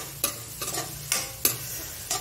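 Onion frying in a pan over a high gas flame: a constant sizzle punctuated by four or five crisp spatula scrapes at an irregular rhythm, close up and with nobody talking.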